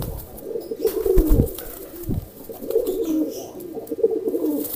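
A pigeon coos in low, soft, rolling phrases, repeated a few times close by.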